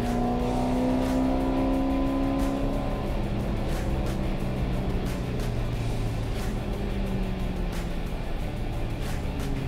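An 860hp car on a race track lap, its engine droning and rising as it accelerates, loud and continuous with gear changes and sweeping pitch shifts.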